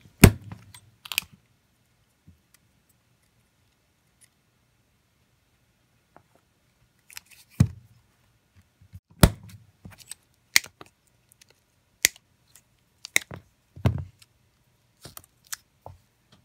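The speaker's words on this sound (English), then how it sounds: "I need to cut these welds off right here." Snips cut welds off a Makita 9.6-volt battery pack in sharp, isolated clicks and crunches, spaced irregularly with quiet gaps between, close and fairly crisp.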